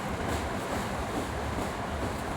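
Steady rumble and hiss inside a train carriage while riding in Japan, a continuous broadband drone with no voices, moderately loud and even throughout.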